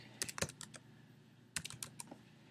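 A computer keyboard typed on in two short, quick bursts of clicking keys, fairly quiet and close, with a pause between them.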